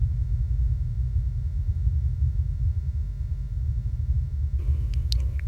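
An AI-generated deep, steady low-frequency rumble fills the low end with a faint high ringing above it, ending with a few brief scraping accents.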